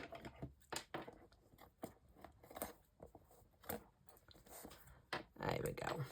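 Scissors snip repeatedly in short, sharp cuts close by, trimming paper on a composition notebook, with soft rustling between them and a quiet voice speaking in places.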